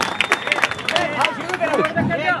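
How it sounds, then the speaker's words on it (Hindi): Audience clapping bursts out in scattered, uneven waves at a village school's Republic Day celebration, mixed with crowd murmur while a voice talks over it, moderately loud throughout. "जोरदार ताली बजाइए"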